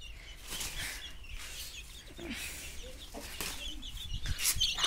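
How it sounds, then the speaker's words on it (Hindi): Backyard poultry, with a rooster, a hen and several chicks including Kashmiri chicks, clucking and cheeping near the microphone over about five seconds of steady outdoor hiss, with bright chirps recurring throughout. "ये रहा हमारा मुर्गा, ये रही मुर्गी जिसके साथ कुछ चूजे हैं"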